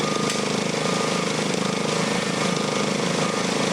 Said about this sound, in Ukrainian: Комунальники ремонтують аварійну дорогу на проспекті Героїв.